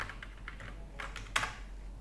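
Light, quick keystrokes tap on a computer keyboard in a few short bursts, faint against a low steady hum, with one sharper key press near the end.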